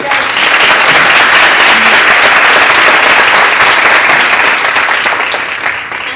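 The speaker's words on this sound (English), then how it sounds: "Big round of applause" A seated audience at an evening parenting talk breaks into loud, dense, sustained applause that stays full for several seconds, then begins to thin out at the end.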